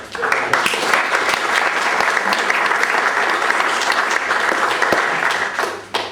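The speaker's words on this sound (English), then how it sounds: "I think that deserves a round of applause" A meeting audience at a summit breaks into a round of applause, many hands clapping loudly and steadily for about six seconds before it tapers off at the end.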